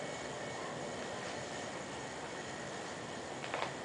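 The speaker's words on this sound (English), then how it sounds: "I'm just going to assume that's a bearing noise" A 36-inch CEC Georgian ceiling fan that stops on low runs with a faint, steady whirring hum and a bearing noise, continuous and even, with a brief small knock near the end.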